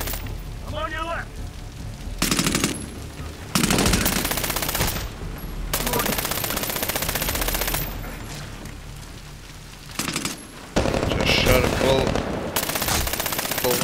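Sustained automatic gunfire in the video game Medal of Honor: Warfighter, loud bursts of rapid shots in several long stretches with brief pauses, and someone speaking between them.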